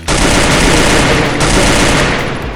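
Loud, sustained burst of rapid automatic SKS rifle gunfire in the video game Free Fire, close and continuous for over two seconds.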